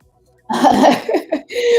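A few sharp coughs close by, breaking out after a moment of silence in quick, uneven bursts.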